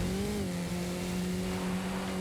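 Tires squeal under braking in a racing video game during a Spinning Tyres daily challenge with a Scout 800A on the Cascadas Trailblazer route, a steady, loud tonal screech held throughout over constant engine noise.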